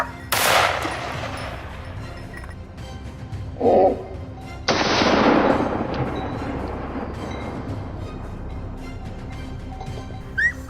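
Gunfire during a wild boar hunt outdoors, with a loud close burst of rapid shots at the start, another long sustained volley midway, and a quieter steady background between them.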